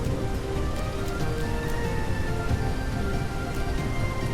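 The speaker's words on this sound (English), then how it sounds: "I mean, it's raining" Rain falling in the medieval city-builder game Noble Legacy, a steady dense patter with a constant hiss, no voices.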